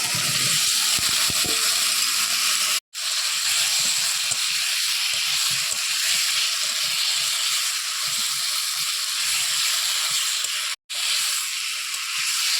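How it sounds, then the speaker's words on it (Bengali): Boiled potatoes and fried eggs go into a sizzling curry masala in the pan, raising a loud, continuous hiss that holds for several seconds, broken by two very brief cuts, with no voices. "সেদ্ধ করে রাখা আলু আর ভেজে রাখা ডিম দিয়ে দেবো"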